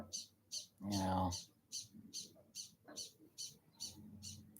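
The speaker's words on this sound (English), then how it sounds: "That's a noisy bird." A bird squawks in rapid repeated bursts, harsh and regular, while someone speaks briefly partway through.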